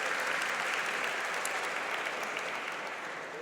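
Dense, even applause from an audience at a store launch event, continuous clapping throughout with a slight drop near the end.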